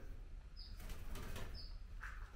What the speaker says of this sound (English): There's a bird stuck in the window.